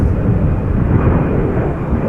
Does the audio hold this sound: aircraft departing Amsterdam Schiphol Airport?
yes